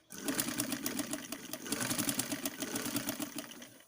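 Sewing machine stitching piping onto a blouse sleeve, a close, fast and even mechanical chatter that swells and eases slightly over a few seconds, heard alone without voices.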